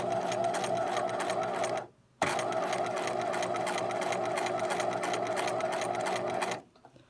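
A sewing machine stitches a zig zag open seam, running loud and steady at close range, pausing briefly, then running on again before stopping.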